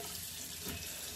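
Tap water runs steadily into a sink as a toothbrush is rinsed off, giving a continuous close splashing hiss with no other sounds over it.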